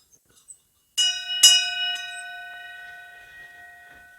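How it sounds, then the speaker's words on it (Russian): A small decorative bell beside a two-storey fireplace in a wooden house rings twice in quick succession, a bright metallic strike followed by a second, then a clear, sustained shimmering tone that slowly fades; close and fairly loud, no talking. "Тут вот колокольчик."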